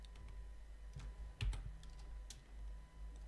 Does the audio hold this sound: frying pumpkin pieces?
no